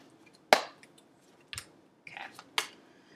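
A deck of tarot cards is shuffled in four sharp, separate riffling bursts spaced about a second apart, close and crisp in an otherwise quiet room.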